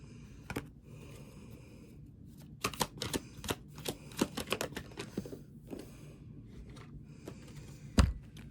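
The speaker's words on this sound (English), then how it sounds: "These cards are just like flipping back and back." Tarot cards being flipped and shuffled during a reading, a quick run of soft, close snaps and riffles in irregular bursts, with one sharper tap near the end.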